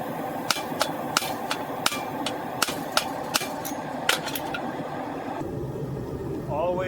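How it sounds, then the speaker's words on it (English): A hammer strikes a hot Damascus steel billet to flatten it, with about a dozen sharp, ringing blows in an irregular rhythm over a steady background hum, then a brief squeal near the end. "I'm going to try and flatten it without messing up those welds."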